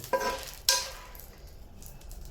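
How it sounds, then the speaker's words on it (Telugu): Dried red chillies fry in a clay pot: two quick stirring scrapes stand out over a soft, close crackling sizzle that fades and continues quietly, with no voices. "మిరపకాయలు ఇట్లా మెరూన్ కలర్లో వచ్చేలాగా మాడ వేయించుకోవాలన్నమాట"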